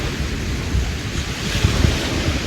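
Waves wash along the Lake Michigan shore near Manistee in a steady, loud rush, mixed with heavy wind buffeting the microphone and no voices.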